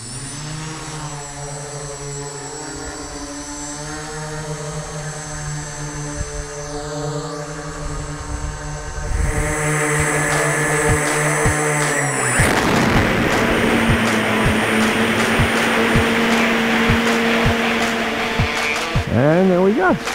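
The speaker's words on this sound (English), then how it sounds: "now it's time for the first forward flight, fixed wing flight of the Brolga." A small MFE StriverMini Brolga VTOL RC plane shifts into forward fixed-wing flight, its motors droning steadily with a whining tone that rises and thickens halfway through, loud and fairly close throughout.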